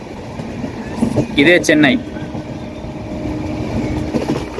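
The Sanghamithra SF Express rolls along the track near Chennai while switching onto another line, a steady low rumble throughout, with a person briefly talking over it.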